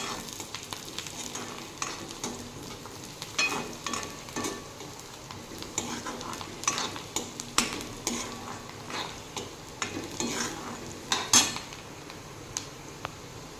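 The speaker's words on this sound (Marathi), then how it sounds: "याला मी आता दोन मिनिटं छान परतून घेणार आहे" Finely chopped garlic sautés in hot oil with onion in a pan, a continuous sizzle broken by frequent scraping and clinking of a spoon stirring against the metal.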